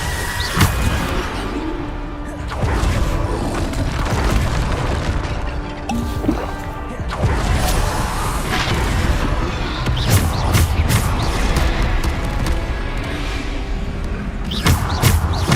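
Bombarda spell explosions in the video game Hogwarts Legacy, booming blasts and crashing impacts over a dense, continuous battle mix of whooshes and thuds, loud and close.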